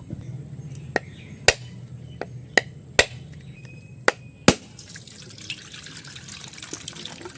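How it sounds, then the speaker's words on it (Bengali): A coconut is split open with a dao blade in a kitchen, giving about eight sharp, loud chops at an uneven rhythm over several seconds, each a crisp close strike, with no talk. "এবার আমি নারকেলটা ফাটিয়ে নেব"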